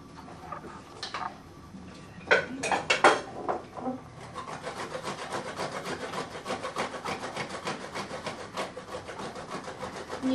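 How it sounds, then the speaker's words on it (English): Ginger grated by hand on a hand grater: a few scattered scrapes and knocks at first, then a steady run of rhythmic, rasping strokes, close and fairly quiet. "So this I'm going to grate by hand on my hand grater."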